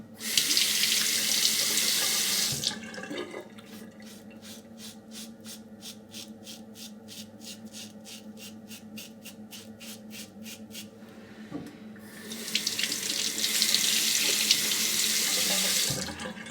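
Tap water running into a sink while a shaving razor is rinsed under it, a loud steady rush that drops away midway through as strokes scrape and tap, then the water gushes again, close with no talking.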